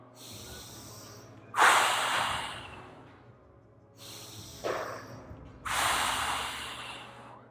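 Slow, deliberate breaths during an isometric glute bridge hold: two long, airy inhales or exhales, each rising sharply then tapering off, set apart by quiet pauses and heard close up with no talking.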